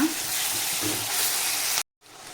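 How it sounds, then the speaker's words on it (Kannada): Chopped tomato fries in a pan for a spicy garlic gravy, an even, close sizzle lasting under two seconds before cutting off sharply. "ಇದು ಒಂದು 2 ಮಿನಿಟ್ಸ್ ಮ್ಯಾಶ್ ಆಗೋವರೆಗೂ ಇದನ್ನು ಒಂಚೂರು ಫ್ರೈ ಮಾಡ್ಕೊಂಡ್ಬಿಡೋಣ"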